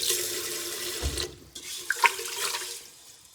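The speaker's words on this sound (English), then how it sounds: "And we're going to do the final rinse. One more time. Water here. Shake it real nice." Tap water runs into a bowl of sushi rice during a final rinse, a close splashing gush that briefly cuts out, then resumes with sloshing and a few clinks as the rice is swirled.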